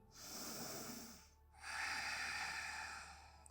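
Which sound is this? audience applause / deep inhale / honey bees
deep inhale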